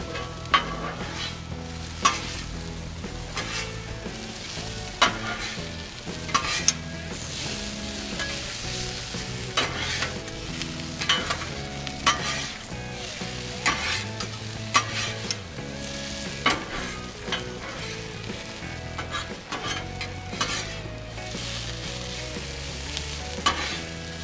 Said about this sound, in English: I'm going to mix in the onions and the peppers with the potato